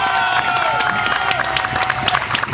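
A crowd applauds rally drivers at a podium ceremony for the Rallye du Var, a brief burst of dense clapping and cheering under a steady tone, with a voice speaking over it.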